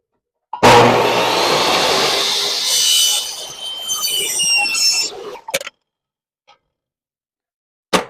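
A table-set power saw rips a wooden board at a quarter-inch setting, cutting loud and steady for about five seconds with a rising whine, then stopping, followed by a couple of faint knocks.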